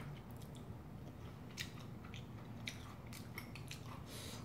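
Someone chews Korean-style sea snail (golbaengi) pasta with chili peppers, with soft wet bites and faint crunches recurring irregularly under a steady low room hum, quiet and close, with no talking.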